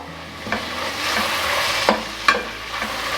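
Tomato, mint and coriander sauté in oil for an egg biryani, a close steady sizzle. Three or four sharp scrapes and taps of a stirring spoon break through it.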